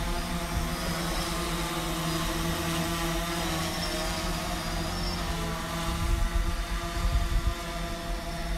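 A DJI Phantom drone flies over a used car market in Hai Duong, giving a close, steady buzzing whine that holds level and swells slightly near the end.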